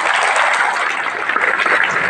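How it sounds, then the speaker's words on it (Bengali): An audience claps steadily and densely at close range at an event honoring an international market director, with a continuous wash of applause and no voices over it. "আমরা ওনার জন্য একটা করতালি দিই।"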